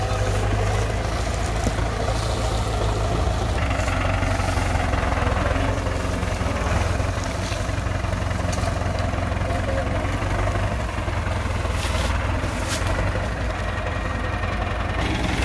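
A Massey Ferguson 460 4x4 and a Massey Ferguson 385 tractor strain to pull a heavy, fully loaded trolley, their engines a loud, continuous low diesel rumble with steady vibration, while voices talk over it.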